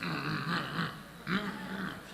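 A human voice imitates a dog's low, rumbling growl in two drawn-out bursts, close and fairly loud, with no other sounds around it.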